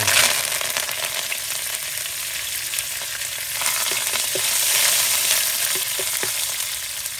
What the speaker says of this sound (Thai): ทอดใบกะเพรา